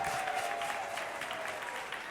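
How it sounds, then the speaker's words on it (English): A crowd at a hip hop summit event applauds steadily, a dense continuous round of clapping with a faint voice tone running underneath. "I think that deserves an extra round of applause."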